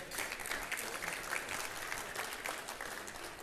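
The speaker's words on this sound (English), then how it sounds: "Give yourselves a round of applause for being here today." An audience at a Great Lakes conference opening ceremony claps for themselves, a steady, moderately distant wash of applause throughout with no talking.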